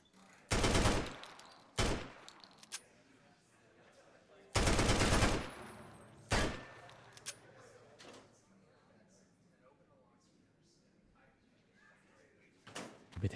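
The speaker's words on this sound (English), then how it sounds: "Shoot out the hinges." Gunfire in the video game Fallout shoots out a locker's hinges: two loud, close bursts of rapid shots, each followed by a single sharp crack, separated by quieter stretches, with a final burst at the end.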